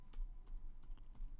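Quiet, close keystrokes tap out Java code on a computer keyboard, a short run of several evenly spaced clicks.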